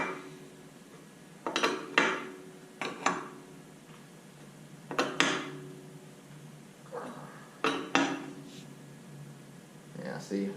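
A wrench clinking against metal hydraulic fittings while modding a SANY SY35U mini excavator, a series of sharp close metallic taps and rattles in irregular clusters, with someone talking between them.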